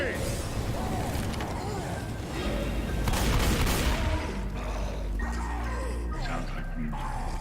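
A grenade explosion and rattling gunfire from the video game Left 4 Dead 2, a dense, loud clatter of booms and shots with voices talking over the chaos.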